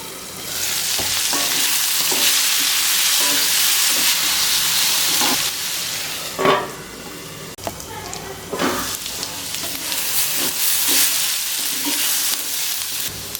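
Potato slices frying crisp in a pan on low flame, a loud continuous hissing sizzle with intermittent scraping stirs and a couple of sharper bursts, close up with no talking.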